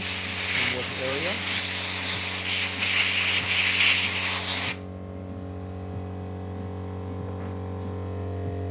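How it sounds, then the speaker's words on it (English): A loud burst of compressed air blowing dust off a sanded workpiece in a woodworking shop, a strong hiss running several seconds before cutting off abruptly, leaving a low steady hum behind. "Please proceed with blowing off any and all dust from the workpiece and work area."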